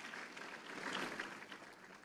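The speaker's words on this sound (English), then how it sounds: "I think he deserves a round of applause." Faint, steady applause from an audience at a sports awards ceremony in Botswana, heard as a distant wash of clapping with no voices.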